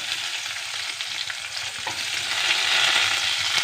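Onion and curry leaves sizzle steadily in hot oil in a pan, a continuous crackling fry that grows slightly louder toward the end, with no voices.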